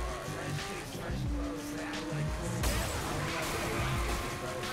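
Car in Saints Row: The Third driven at full throttle past a church, a steady loud engine roar with tire squeal and rising pitch, and game chatter.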